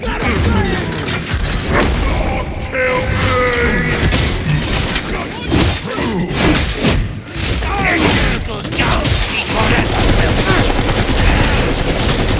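Dense, rapid gunfire and heavy booms from the video game Darktide fill the mix, with overlapping bursts and impacts running continuously at high volume while in-game voices call out over the action.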